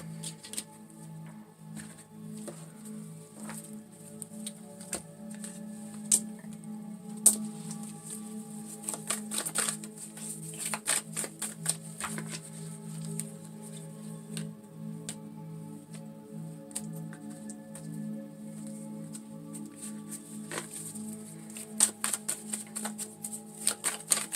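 A tarot deck is cut and shuffled, with soft rapid riffling bursts and crisp card snaps recurring irregularly over a faint steady hum, close and quiet with no talk.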